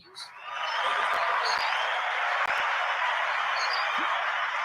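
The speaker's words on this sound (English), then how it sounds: "make it clap again?" A canned applause sound effect fired from a button on a live audio mixer, a sustained burst of crowd clapping lasting a few seconds at a steady, fairly loud level, with a brief voice at the start.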